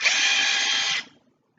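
An Ikea cordless drill runs at full speed in one high, even whine for about a second, then spins down and falls quiet, close up with no talk.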